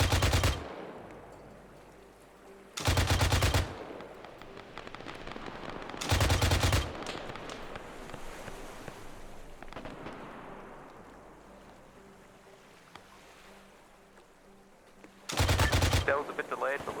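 Gunfire in a video game, loud bursts of rapid automatic fire in separate volleys spaced several seconds apart, with quieter game ambience and distant sounds between them.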